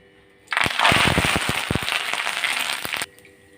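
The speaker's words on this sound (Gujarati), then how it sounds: "હવે ત્યારબાદ આપણે મીઠા લીમડાના પાનને સરસ રીતે તળી લઈશું" Curry leaves dropped into hot oil with fried peanuts and chilies for a spicy namkeen snack, bursting into loud, dense sputtering and popping that runs about two and a half seconds, then cuts off.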